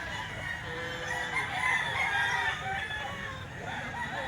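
A pumpkin sweater gamefowl rooster crows once, loud and close, in a long drawn-out call that rises and then trails off over a background of farmyard noise.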